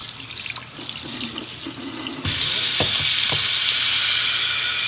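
A newly installed Delta kitchen faucet runs water into a sink: a steady hissing stream that grows louder and brighter midway as the hot water is opened further, with a couple of soft knocks and no talking.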